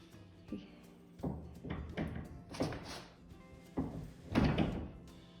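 A series of heavy wooden thunks and knocks, several spaced impacts as a large barn door is lifted and hung into place, with faint background voices.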